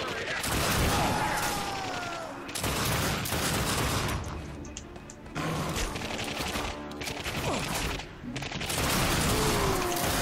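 Rapid gunfire in the video game The Darkness 2, with dense bursts of shots in several loud volleys and short gaps between them, while someone talks over the shooting.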